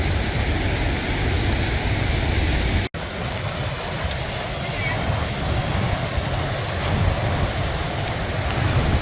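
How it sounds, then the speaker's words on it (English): Gullfoss waterfall in Iceland roaring nearby as a loud, steady broadband rush of falling water, continuous throughout apart from one abrupt momentary cut. "But look at the size of that falls, that's pretty amazing."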